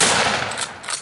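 A single loud shotgun blast fired at a wild turkey during a spring turkey hunt in New York, a sharp close report that fills the second and rings out briefly.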